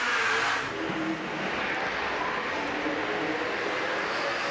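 Super saloon race cars lap Baypark Speedway, engine roar that swells briefly at the start and then settles into a steady, moderately distant drone.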